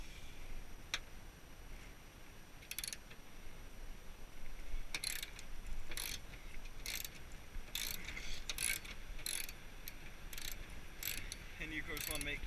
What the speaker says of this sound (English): put it on your ratchet and just take this off, which might take some time.